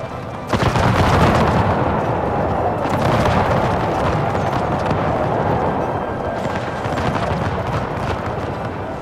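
Artillery fire in the video game Total War: Empire 2, a dense, loud battlefield din of booming cannon and crackling gunfire, with sharp blasts at the start and later rolling continuously.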